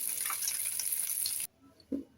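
Taki fish rubbed with turmeric and salt sizzles in hot oil in a pan with a close, crackling hiss, then cuts off abruptly to near silence with a faint clink.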